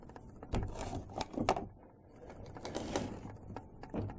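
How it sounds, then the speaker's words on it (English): Spring ends being crimped with a homemade tool of two steel plates on a 60's style chopper minibike, several close metallic clicks and scrapes in irregular bursts with short pauses between them. "And crimp the ends."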